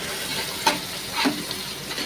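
Spice powders (Kashmiri chili, cumin, coriander) stirred in a frying pan without oil: a soft, steady dry scraping with two brief louder scrapes of the spatula against the pan, close and alone.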